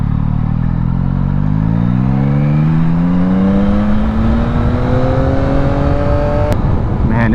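2022 Yamaha XSR900 motorcycle being ridden, its loud engine climbing steadily in pitch through a long pull before a brief click and shift, heard close under heavy wind noise.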